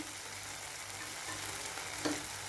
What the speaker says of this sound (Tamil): நல்லா வதக்கி விட்டுக்குவோம்